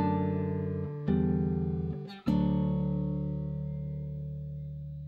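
Guitar plays measure 10 of Jesu, Joy of Man's Desiring: three plucked chords, the final one struck firmly and left to ring and slowly fade over several seconds, close with no voices.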